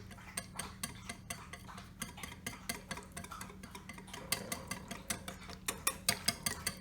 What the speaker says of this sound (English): we're gonna slowly begin to add in our dry ingredients, whisking this the whole time